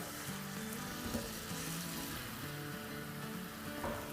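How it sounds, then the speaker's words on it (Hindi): Two medium grated onions frying over a medium-high flame in a pan for a dhaba-style chicken masala, giving a steady, close sizzle with faint stirring and no talk. "प्याज़ों के साथ इतना फ्राई करेंगे कि प्याज जो है वो सॉफ्ट हो जाए"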